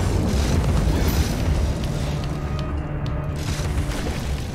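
A deep, rumbling boom with crackling debris rolls through continuously as the teapot cannon fires in Alice: Madness Returns, loud and low-pitched.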